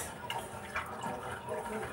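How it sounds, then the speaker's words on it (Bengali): Green peas are rinsed under running water, with a steady close splashing and trickling that stays at an even level throughout the brief moment. "তো এটাকে আমি ভালো করে ফ্রেশ করে জল দিয়ে ধুয়ে নিলাম।"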